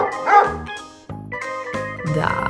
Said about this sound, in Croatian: Sljedeće je mahanje repom i srećno lajanje.